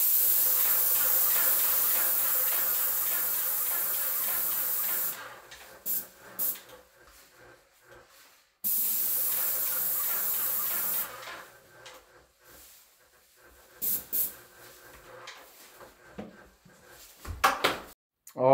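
A spray can mists primer onto silicone caulking in two steady hissing bursts, each lasting a few seconds, followed by quieter handling noises.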